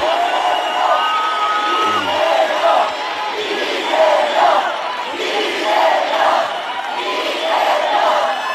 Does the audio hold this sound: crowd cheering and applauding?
yes